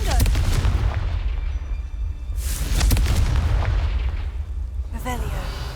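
Confringo blasting curse explosions in Hogwarts Legacy, a few sharp booming bursts over dense rumbling game ambience, with talking mixed in.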